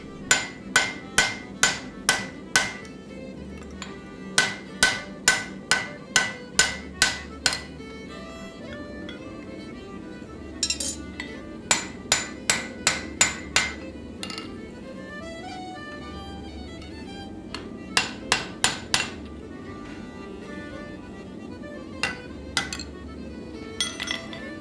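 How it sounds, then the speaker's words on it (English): Hammer blows ring out on a steel drift set into the eye of a hand-forged folded axe, falling in quick bursts of five to eight sharp metallic strikes separated by short pauses, loud and close, with no talking. "I carefully insert the drift, not to make the eye larger, but to shape it."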